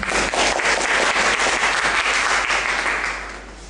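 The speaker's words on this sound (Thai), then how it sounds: "ยังไงก็ขอเสียงปรบมือให้กับอาจารย์เลยค่ะ" Audience applause greets a guest lecturer arriving to give a special talk on the world economy, China's economy and Thailand's special economic zones. Dense, steady clapping from many hands fills the room, then thins and fades toward the end, with no talking over it.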